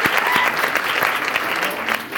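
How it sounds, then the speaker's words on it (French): Audience applause at a panel on social media, steady and dense clapping from a seated crowd filling the whole stretch at even loudness, with no talk over it. "Accueillons chaleureusement de nos applaudissements Monsieur Rémi Lachance"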